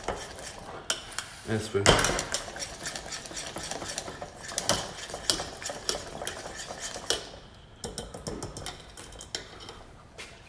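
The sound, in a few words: whisking butter mixture in a bowl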